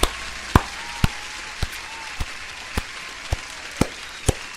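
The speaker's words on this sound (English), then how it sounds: "Give an applause to all." Sharp single claps sound about twice a second in an even, slow rhythm over a quiet room background during a live day-trading stream.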